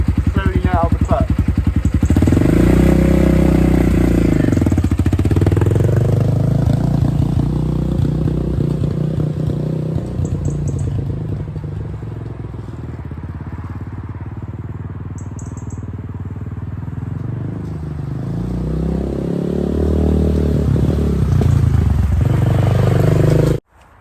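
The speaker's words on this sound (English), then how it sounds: "shift down into first, start to give it revs, slowly let out the clutch" A 10Ten 250cc dirt bike engine revs loudly, then the rider lets out the clutch and pulls away in first gear. The engine note rises and falls steadily and close by, then swells again near the end.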